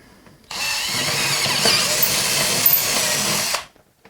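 A power drill enlarges a pilot hole to fit a bolt while building arcade furniture, one continuous high whirring run of about three seconds, close and loud, starting and stopping abruptly.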